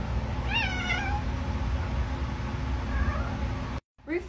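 A kitten meows twice, a clear rising-falling cry followed by a fainter one, over a steady low background hum with a soft voice nearby.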